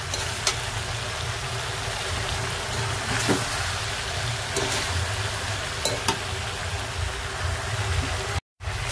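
Curry with drumsticks being stirred in a hot pan, a steady sizzle and frying hiss running throughout with occasional scraping clicks from the spoon, close up and with no talking.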